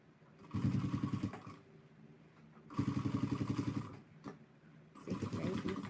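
Sewing machine top stitching a bag, running in three short bursts of fast, even mechanical whirring and ticking, close and fairly quiet with small pauses between runs.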